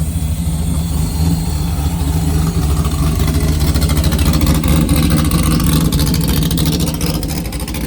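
A car engine idles and burbles at the Glamis sand dunes, a loud, close, continuous low rumble with a steady throb and occasional slight revving, with no voices over it.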